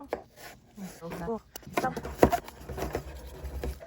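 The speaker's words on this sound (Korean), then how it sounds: "파만 쫑쫑 썰어서" Green onion being finely chopped with a knife on a cutting board, a run of quick, close, uneven taps with no talk over it.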